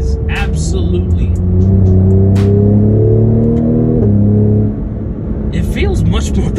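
A Cadillac CT5-V engine revs up and holds a steady, loud, droning pitch that climbs and then settles. Near the end it drops away to a lower idle rumble.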